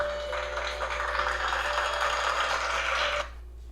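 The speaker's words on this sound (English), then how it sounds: "If I wanted to drop an applause right there," Steady crowd applause sound effect laid into an iMovie project on iPad or iPhone, an even wash of clapping that stops abruptly after about three seconds.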